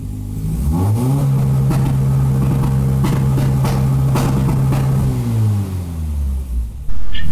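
A Chevette engine with ODG 3-step launch control held at a steady high rev limit for about four seconds, with a fast choppy stutter, then dropping back to a lower idle; loud and close, with no talking.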